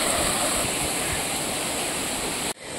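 Water rushes continuously down the Sirki waterfall, a loud, dense, close roar that holds steady for a couple of seconds before cutting off abruptly.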